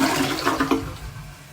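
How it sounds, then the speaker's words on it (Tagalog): A Project Source toilet with a newly installed water-saver kit flushes, a loud rushing gurgle of draining water that tapers off into quieter refill within a couple of seconds. "Now it's time to flush it."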